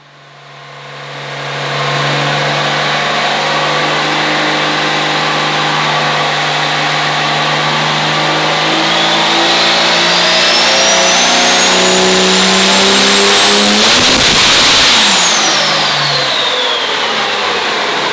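A big-turbo engine making a power pull on a dyno, a loud sustained roar that climbs steadily in pitch over many seconds with turbo whine on top, peaking near the end, no talking.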